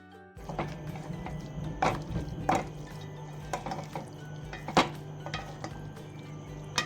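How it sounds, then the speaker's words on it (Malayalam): A spoon scrapes and clinks against a pan as thick gobi Manchurian is stirred with the flame off. Irregular close knocks sit over a steady low kitchen hum. "നന്നായിട്ട് എല്ലായിടത്തും പറ്റുന്ന പോലെ അങ്ങോട്ട് ഇളക്കി കൊടുക്കുക."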